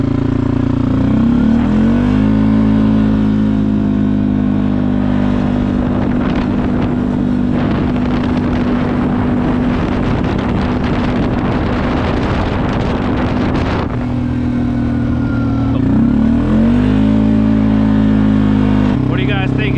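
A Can-Am 450 XMR ATV fitted with an HMF exhaust idles and revs, its engine note rising, holding steady and falling back, loud and close with wind buffeting the microphone.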